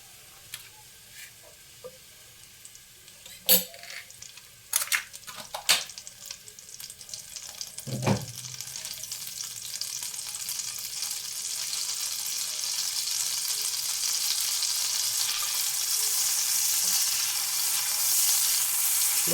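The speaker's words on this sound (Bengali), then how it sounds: "দেখো এইখানে ব্রেডটাকে একটু সেঁকে নেবো এইভাবে" Bread toasting in butter in a frying pan, a few sharp clinks and scrapes early on, then a steady sizzle that swells and grows louder toward the end, with no talk.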